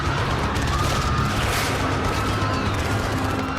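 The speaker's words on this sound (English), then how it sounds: "On day 12 I immediately start using Coconut Cannon because it forces me to." Coconut Cannon firing in the video game Plants vs. Zombies 2, a loud, continuous burst of booming game blasts layered into a dense, rumbling barrage with no talk over it.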